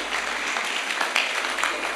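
A church congregation applauds during a sermon, producing a dense, steady wash of clapping from many hands throughout.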